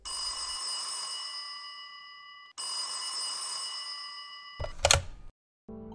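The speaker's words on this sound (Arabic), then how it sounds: "شوية كنسمع التليفون كيصون" A telephone rings at home over breakfast, giving two long, steady electronic ringing bursts separated by a short pause, followed by a brief loud clatter and a thump.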